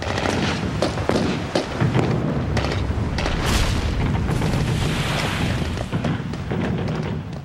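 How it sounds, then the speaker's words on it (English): Heavy artillery blasting the Reichstag parliament building in Berlin at point-blank range, a dense, loud barrage of booms and cracking blasts rolling continuously with no pauses. "they blasted the building at point-blank range with heavy artillery"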